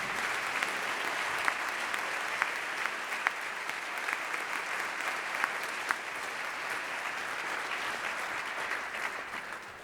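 An audience at a memorial concert applauds to welcome a jazz singer, a dense steady roar of many hands clapping throughout, with a few louder claps standing out.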